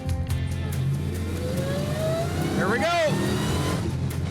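A 1969 Plymouth GTX engine revs and pulls hard through the gears, a rising harmonic sweep climbing and then falling as it shifts, steady and close under a man's brief speech.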